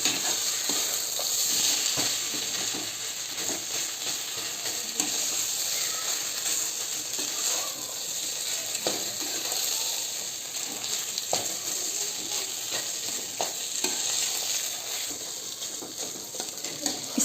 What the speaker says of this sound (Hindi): इस मसालों को 2 से 3 मिनट के लिए फ्राई कर लेना है, इसी तरह मिलाते हुए छोलनी की सहायता से